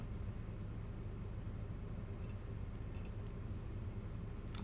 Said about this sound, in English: Sorry if you hear the noise in the background. That's just my heat going off.